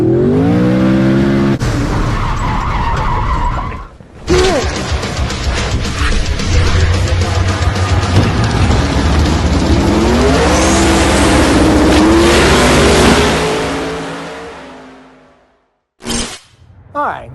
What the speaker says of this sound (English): Let's do some burnouts